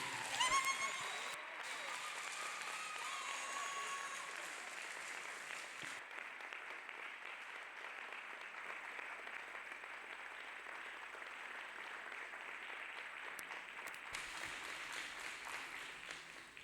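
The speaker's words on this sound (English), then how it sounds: "Let us clap hands for Jesus." A church congregation claps hands together in worship, a steady, even patter of applause that continues for well over fifteen seconds at a moderate, somewhat distant level.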